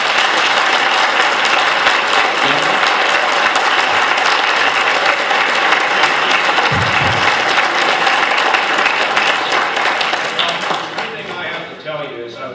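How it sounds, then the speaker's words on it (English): An audience at a campaign event for Governor John Kasich gives loud, dense applause that holds steady before fading toward the end. "Let's give him a big round of applause."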